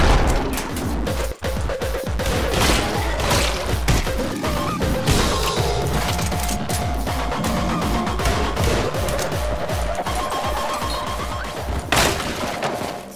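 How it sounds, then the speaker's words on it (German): Doors blowing apart in the Anger Foot video game, a rapid barrage of loud blasts, crashes and shattering bursts layered over busy game noise and music, dense and continuous throughout. "Wieso explodieren die Türen denn bei mir?"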